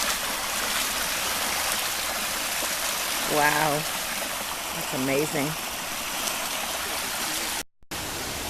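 Floodwater in a usually dry gully rushes as a steady, broad roar after heavy rains, with a brief exclaimed voice and a dog's short barks rising over it midway.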